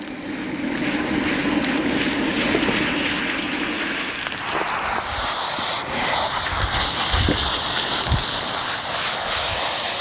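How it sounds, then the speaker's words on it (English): Tap water running steadily while it warms up for washing a team of silver dapple horses, a continuous broadband gush with small clatters and knocks near the end, no talk. "Just waiting for the water to warm up."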